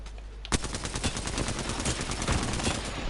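Rapid, loud automatic weapon fire from the video game Apex Legends rattles continuously in dense bursts after a sharp opening shot, filling the whole stretch without pause.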